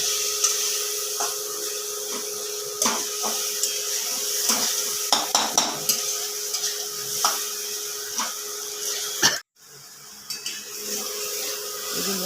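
Spices with salt, ginger and mustard frying for a rural Bengali snail (gugli) curry, with a soft steady sizzle and repeated clinks and scrapes of a utensil against the pan, then a brief break before the sizzle resumes.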